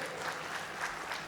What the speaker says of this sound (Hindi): तालियां बजाओ अच्छी तरह से।